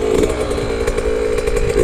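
Yamaha YZ 65 dirt bike engine running steadily near the listener in low gears during first rides, a loud, continuous buzzing drone with slight rises and dips in revs and no talk over it.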